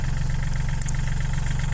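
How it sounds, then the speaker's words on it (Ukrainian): A small 35 hp tractor engine runs steadily while tilling a field for sowing, a loud, close, even diesel thrum with a low pulsing throb and no speech. "Працюємо таким маленьким тракторцем на 35 коней."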